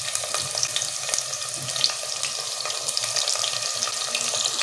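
Two medium chopped onions frying in ghee over low heat in a handi pot, a steady close sizzle and crackle with no talk.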